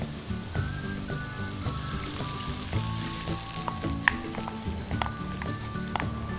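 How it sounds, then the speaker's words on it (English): Vegetable stock mixed with soy sauce and spices hits a hot pan and sets off a steady sizzling hiss with bubbling pops and clinks, close and moderately quiet. "Now to this, I'm going to add the vegetable stock where I have mixed the soy sauce and the spices."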